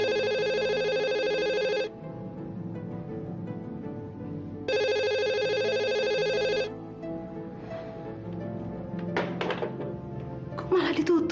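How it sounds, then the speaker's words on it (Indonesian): Telephone ringback tone on an outgoing call that goes unanswered, two loud electronic ring bursts separated by a pause, followed by faint talk and a few clunks. "Saya telepon Adrian sekarang ya, Ma."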